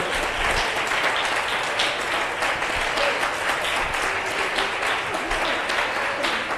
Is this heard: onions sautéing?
no